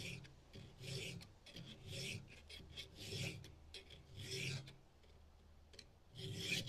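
Hand file rasping across the teeth of a Stihl chainsaw chain, several steady back-and-forth strokes in an even rhythm, close and clear with no talking.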